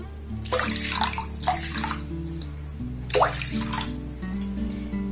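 Water is poured into a pot while making homemade potato sago papad: a close, steady gurgling stream with splashing that rises and falls in two pours.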